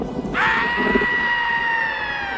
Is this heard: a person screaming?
yes